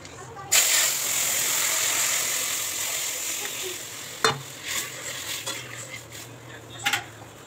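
Dal seasoned with salt and turmeric is poured into hot oil with spluttering mustard seeds, setting off a loud hissing sizzle that fades, followed by spoon clinks and stirring scrapes.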